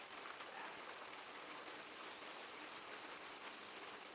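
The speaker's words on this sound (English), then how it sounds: "it's been raining consistently for like 3 or 4 days now" Steady, dense rain falling, a continuous hiss of drops on surfaces with no pauses or voices.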